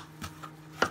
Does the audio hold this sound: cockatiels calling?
no